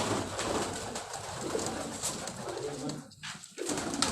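Pigeons on a Karachi rooftop coo and call close by over a breezy outdoor hiss, with a brief dip in the noise near the end and no talking.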